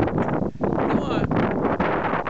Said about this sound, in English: Look at the wind blowing. Blowing like crazy.